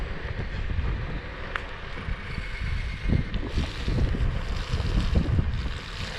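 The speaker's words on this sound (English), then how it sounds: "when it's not as windy, when I don't have that headwind situation" Strong headwind buffets the microphone while gliding on a trail toward downtown Newnan, a steady low roar with gusty surges and no voices.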